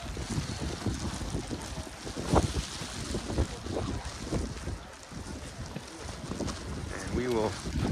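Strong wind buffets the microphone atop Pulpit Rock, a high cliff ledge in Norway, as a steady broadband roar with gusts throughout, while someone talks over it.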